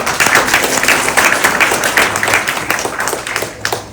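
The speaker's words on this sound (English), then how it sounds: "let's give her a big applause" Audience applauding for candidate Doly Begum at a meet-and-greet, dense steady clapping from a small indoor crowd, loud and close, tapering off near the end.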